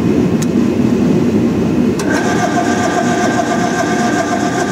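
A mini clamp-on CNC plasma cutter makes a quick cutting pass. Steady loud machine noise runs throughout, then a sharp start about midway adds a harsh, buzzing hiss with a steady tone that holds to the end.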